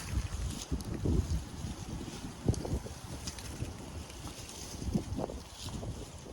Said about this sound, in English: Whoa, wind.